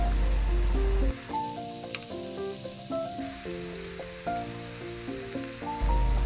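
Small-cut carrots sizzle and fry in a pan, a steady close hiss with scraping stir noises, while music plays over it throughout.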